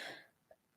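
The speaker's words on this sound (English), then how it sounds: "I think I'm going to have this cough the rest of my life" One short, faint cough from a speaker during a webinar, a quick breathy burst followed by near silence and a small click.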